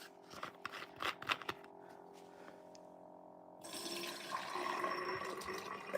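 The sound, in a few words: Essentia water being poured into a container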